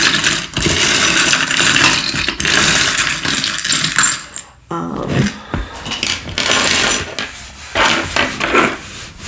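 A bowl of small trinkets and odds and ends is stirred and shaken, giving loud, close metallic rattling and clinking that runs almost continuously, with a brief lull midway.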